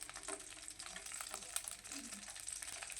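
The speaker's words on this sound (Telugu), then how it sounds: "వీటిని బాగా వేపుకోవాలండి." Egg masala frying in a pan gives off a steady, close sizzle with light stirring scrapes throughout, and no voices.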